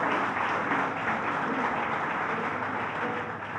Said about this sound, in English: Let's give a big round of applause to Manhattan Borough President Gail Brewer